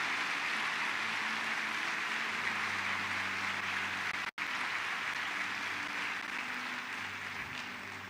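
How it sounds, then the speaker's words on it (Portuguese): Church congregation applauding during a worship service, a dense, steady wash of clapping that fills the room at even loudness, with a brief dropout midway. "a gente pode aplaudir mais ao Senhor"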